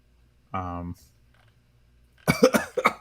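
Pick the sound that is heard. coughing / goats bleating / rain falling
coughing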